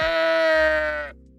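A sheep bleat sound effect plays once, a loud, close, strongly harmonic quavering bleat lasting about a second before cutting off sharply.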